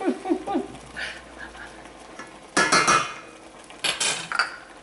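A ladle scoops low-carb cream of broccoli soup from a pot into a cup, with two loud clattering bursts of metal against the pot's rim over a quieter background of small kitchen clinks.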